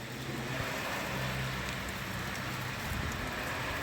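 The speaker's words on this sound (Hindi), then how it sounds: "अब और तेज बारिश होगी और ओले गिर रहे हैं।" Heavy rain mixed with small hailstones pours steadily outdoors in changeable UK weather, a dense, even hiss of drops and pellets striking surfaces throughout, with no voices.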